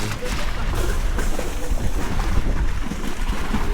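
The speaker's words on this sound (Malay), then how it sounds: "Angin sejuk, cuaca elok." Steady broadband wind noise at sea from aboard a boat off Pattani at night, a constant rushing gust buffeting the microphone with faint water wash underneath and no clear talk.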